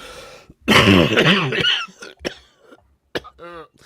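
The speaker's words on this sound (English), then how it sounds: "Yeah, it was a real cough" A man with a head cold coughs, a harsh burst followed by a few shorter throaty hacks and throat clearing, close and loud, with talk mixed among the coughs.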